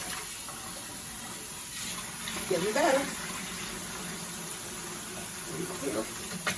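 Tap water runs steadily as rice is rinsed in a kitchen, with soft splashing swells over the flow while someone talks.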